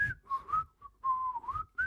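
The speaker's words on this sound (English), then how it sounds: "I'll do it. I can whistle for hours." A person whistles a short, wavering tune of sliding notes in several bursts, close and clear with no talking.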